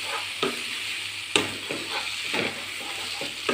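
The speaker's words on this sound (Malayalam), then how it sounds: "പൊട്ടിച്ച് അതിനകത്തേക്ക് ഒഴിച്ചു കൊടുക്കാം. നല്ലോണം മിക്സ് ചെയ്യുക." A pan of jackfruit seed and moringa leaf thoran has beaten egg stirred in, with a spatula scraping and tapping in irregular strokes over a steady close sizzle.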